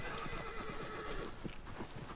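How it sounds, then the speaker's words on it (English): A horse in Shadow of the Colossus crashes into a wall, its hooves clattering and a whinny rising over a dense, loud, noisy game soundscape. "No, the fucking horse hit the wall."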